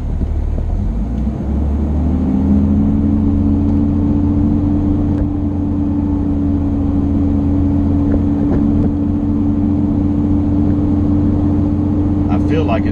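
A Cummins-powered Ram truck with transmission trouble accelerates, its loud, steady engine drone rising in pitch with a rumbling road bed beneath; a shift point is hard to pick out in the continuous roar.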